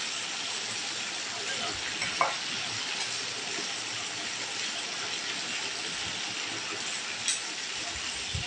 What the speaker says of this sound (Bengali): মাছটা আমি হালকা ভেজে নিই